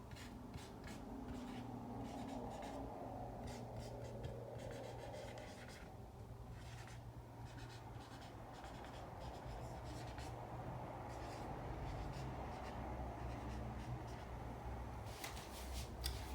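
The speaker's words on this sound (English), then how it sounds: "I'm going to write a similar statement right here." Someone writes on a board during an algebra lesson, producing quiet, continuous scratchy strokes and rubbing over a low steady hum, with a few sharper taps toward the end.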